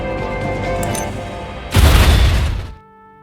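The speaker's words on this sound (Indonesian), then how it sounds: "akhirnya mereka menggunakan peledak Malibu milik Lupin untuk menghancurkan pintunya" A loud explosion blasts open a vault door in a Lupin heist film, a sudden broad burst that booms and rumbles for about a second before cutting off abruptly, following a steady background of music.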